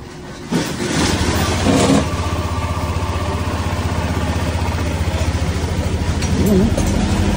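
A motorcycle engine runs steadily during an ECU remap RPM check, a close, continuous mid-pitched drone that swells slightly near the start and again toward the end.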